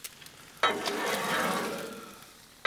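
Bacon sizzles on a Blackstone griddle in a steady, close, crackling hiss that starts abruptly, holds for about two seconds, then gives way to a sharp scrape.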